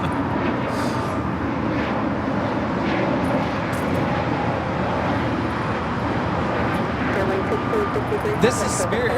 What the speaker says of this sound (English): This is Spirit Airlines, excuse me, 1663 taking off to Detroit on the A320neo.